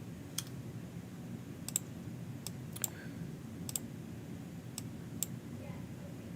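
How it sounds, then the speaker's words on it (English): Sharp, isolated computer mouse clicks sound at irregular intervals over a steady low hum in a quiet room, close and fairly faint. "And yes, I will be clicking around on things."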